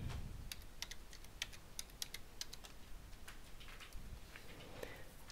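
Fingers tapping a username and password into a computer keyboard, a quick run of light, close key clicks at an irregular pace over a quiet background.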